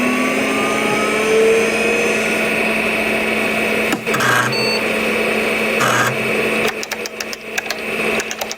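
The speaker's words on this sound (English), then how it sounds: "It is the sound of an IBM 5150 PC booting up." An IBM 5150 PC boots up: a steady mechanical whir with a high whine, like a computer fan and drive spinning up, broken near the end by a series of sharp clicks and seeks.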